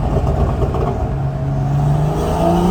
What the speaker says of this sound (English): when you put your foot down, that straight 6 just sounds so precise